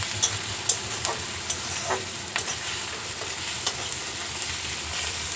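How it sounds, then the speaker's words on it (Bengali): Ginger-garlic paste frying with onions in a pan, a steady hissing sizzle broken by a few light spatula taps and stirs, close and moderately loud, with nobody speaking. "আদা রসুন বাটাটাও ভালো করে ভেজে নেব"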